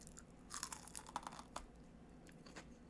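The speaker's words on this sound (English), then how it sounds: "These are good and crunchy." A crunchy snack from a big bag is chewed in several close, crackling bites clustered in the first half, then quieter munching, faint and with no talk.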